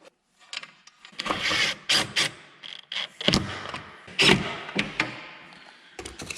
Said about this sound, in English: Let's put this recoil on. 4 bolts, you know, should just, yep, like that. Find the holes.